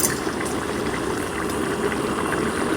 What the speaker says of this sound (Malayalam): തിളച്ചോട്ടെ ഇനി.